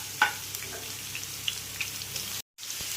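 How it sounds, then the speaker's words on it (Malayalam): Chopped ginger and green chilies sautéing in a pan for a cutlet recipe, a soft continuous sizzle with faint pops and a stirring tap early on, briefly cutting out near the end before resuming. "ഇനി ഇതൊന്ന് ചെറുതായിട്ട് മൂപ്പിച്ചെടുക്കാം."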